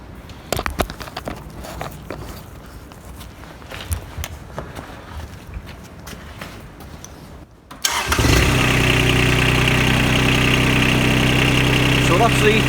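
A Kubota RTV 900 utility vehicle sits quietly with faint footsteps and handling noises, then its engine starts abruptly and holds a steady, loud, close idle to the end.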